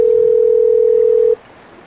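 A steady telephone dial tone sounds alone at close range for over a second, then cuts off abruptly into quiet room noise as a call is placed.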